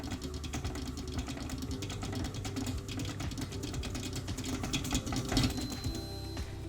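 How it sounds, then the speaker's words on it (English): An electric mixer whirs steadily at speed 2 through brownie batter, a faint, even motor drone with light rhythmic clatter from the beaters, heard alone and close. "we're going to turn the speed up to 2 and mix for 2 more minutes"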